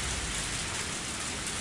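Steady rain pours down in a Higurashi When They Cry game scene, a dense, even hiss of drops filling the whole moment without pause and with no voices over it.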